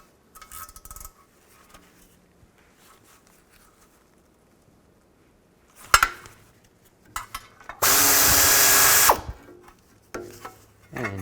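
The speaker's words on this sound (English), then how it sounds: "Take these 2 bolts out." Scattered clinks and scrapes, then a short loud burst of a power tool, as two bolts are taken out with a 10mm socket near the transmission of a 2000-2006 Chevy Tahoe.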